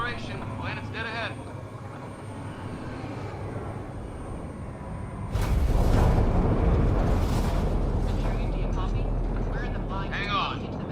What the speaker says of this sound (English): Initiating atmospheric entry.